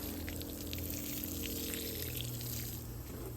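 Liquid fertilizer, a nitrogen boost for pepper plants, pours steadily onto garden soil in a continuous close wash of trickling liquid with no pauses.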